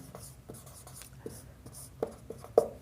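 A pen or chalk writing out a class 10 maths solution on real numbers, heard as faint scratchy strokes with a few sharper taps, close, sparse and quiet.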